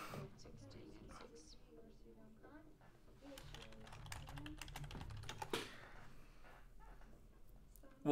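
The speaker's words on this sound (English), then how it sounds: "It's typing. Yeah, it's my typing sounds awful sometimes." Rapid keyboard typing at a computer, a quiet run of irregular clicky keystrokes with a brief louder burst near the end, while a person talks over it.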